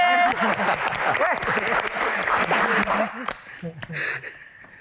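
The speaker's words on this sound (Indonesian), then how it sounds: "Tepuk tangan" Brief burst of clapping from a small group, mixed with someone talking loudly over it, the applause fading out toward the end.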